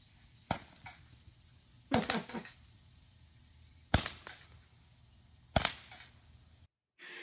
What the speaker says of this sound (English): Now he has fireworks.